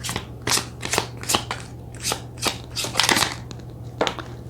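Oracle cards are shuffled and drawn by hand, giving a rapid series of crisp, papery riffles and slaps in an irregular rhythm, close and clear over a low steady hum.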